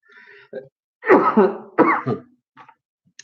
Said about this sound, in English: time to cough, people.